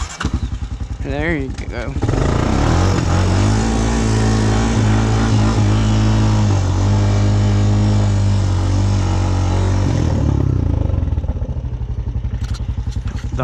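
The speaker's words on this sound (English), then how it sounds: "The Honda Recon pushing all 23 horsepower to the fullest." Honda Recon ATV engine, roughly 23 horsepower, bogging in clay and then revved hard, a steady loud close drone lasting about eight seconds before it drops back, with a short spoken remark near the start.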